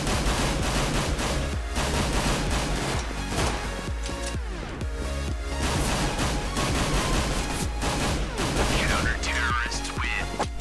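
Rapid gunfire from a CS:GO match, with a P2000 pistol popping among dense bursts of shots, layered under steady music and loud throughout.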